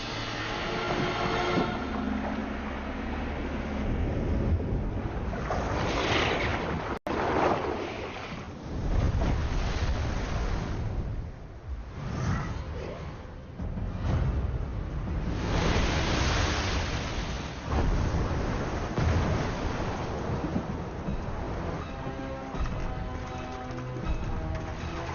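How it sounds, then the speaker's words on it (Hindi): Churning water and waves in a Hindi-dubbed Hollywood horror film surge continuously and loudly, rising and falling in broad washes with a windy, rushing texture and no speech. "पानी में हलचल हो रही है।"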